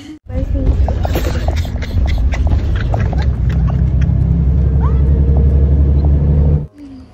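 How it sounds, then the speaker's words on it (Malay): A bus drives fast along a bumpy road, giving a loud, continuous low engine rumble with rattles and knocks from the cabin, and it cuts off abruptly near the end. "Bas ni memang best gila laju si dia bawa"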